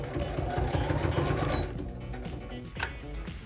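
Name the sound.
sewing machine stitching a shirt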